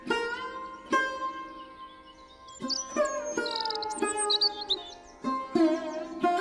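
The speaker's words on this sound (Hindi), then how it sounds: "तभी वहां पर मैना पक्षी आ गई।" A cartoon myna bird gives a run of bright, tuneful chirps and whistled calls, loud and close, in several bursts with short pauses and no voices over them.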